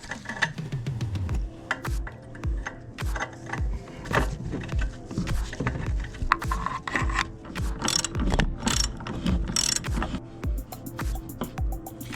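Ratchet tightening an oxygen sensor back into the exhaust of a Volvo XC90 3.2 during catalytic converter replacement, giving repeated quick clicking pawl bursts with metallic tool clatter, close and fairly loud, with no talking.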